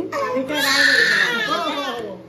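A baby cries loudly and close in a house hall, a continuous wailing cry with a brief break, filling the whole moment.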